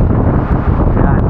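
Strong wind gusts buffet the microphone at Hulugan Falls in Laguna, a loud, continuous roar filling the brief moment.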